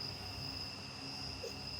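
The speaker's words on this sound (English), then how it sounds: "hearing the crickets chirp" Crickets in the woods at night at a lake campsite, a faint continuous high chirping drone steady throughout with no voices.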